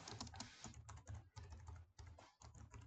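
Typing on a computer keyboard comes through as quick, irregular, faint key clatter in short bursts.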